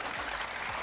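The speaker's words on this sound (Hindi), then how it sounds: "तालियां बजाओ मेरे लिए।" Audience applause during an entertainment show, a short, even burst of dense clapping from a crowd at moderate distance, with no voices over it.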